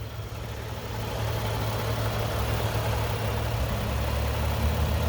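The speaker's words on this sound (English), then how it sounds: "And that V6 is running great." A 2017 Toyota Sienna LE's V6 engine idles steadily and smoothly with a low, even hum and no one speaking.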